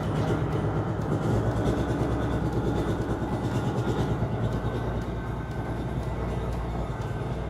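A 1984 Peterbilt 359 truck engine idling with air in the fuel system, a dense, rough, rumbling drone with steady clattering texture, loud and close, running continuously without speech.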